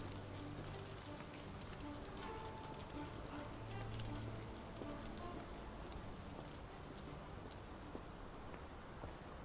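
Rain falls in the video game Sherlock Holmes: The Awakened, a steady dense hiss of drops on surfaces that continues evenly and faintly throughout, with a low hum underneath.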